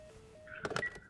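In The Last of Us Part One, a few quick plastic clicks come from buttons pressed on a dead telephone, preceded by a faint tone and heard close and fairly quiet.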